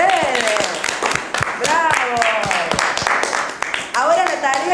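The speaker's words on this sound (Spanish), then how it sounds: "¡Aplauso para ustedes!" Schoolchildren applaud in a school classroom, their clapping crackling through the whole stretch under excited young voices and chatter.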